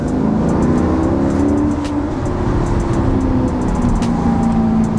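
Maserati MC Stradale with a 4.7-litre engine revving, a loud, close roar with rising and falling tones held steady throughout, with no talk over it.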